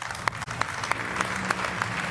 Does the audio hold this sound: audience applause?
yes